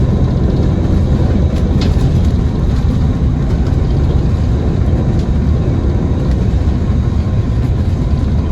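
A steady, loud rumble of rail traffic rolls on throughout, with a broad low-frequency roar and faint metallic squeaks, no voices.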